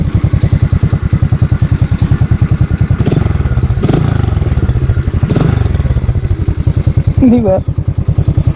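A Euro Motor Peak 110 motorcycle idles through its stock muffler exhaust with a steady, close, rapid putter and a few brief throttle blips. Someone speaks briefly near the end.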